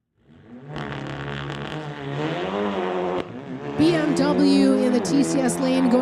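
Street-legal cars drag racing at a MOPAC event, engines revving up hard from near silence and roaring louder as they accelerate, with an announcer talking over the run.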